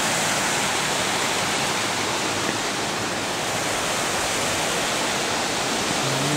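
Steady, dense roar of a waterfall, water rushing continuously and loudly close by with no break over several seconds.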